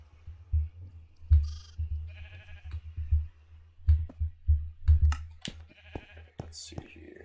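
Blocky sheep in Minecraft Bedrock give several short synthetic bleats scattered among clicking and low thumps of play, with a voice talking intermittently underneath.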